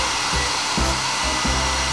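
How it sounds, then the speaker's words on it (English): A sneaker dryer blows with a constant, loud broadband whoosh of air like a hair dryer, running steadily throughout with faint low rhythmic thumps underneath and no voices. "Super sneaker dryer ready"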